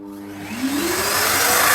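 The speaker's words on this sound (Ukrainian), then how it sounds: "Вмикаємо пилосос." A vacuum cleaner, hooked to a dust-extraction adapter for a rotary hammer drill, switches on, its motor whining up in pitch and settling into a loud, steady roar.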